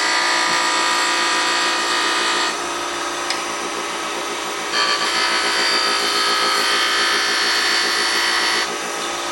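A wood lathe gouge cuts steadily into a spinning wooden box, rubbing the bevel for a smooth cut, giving a continuous, fairly loud scraping hiss close by that swells and fades as the tool moves.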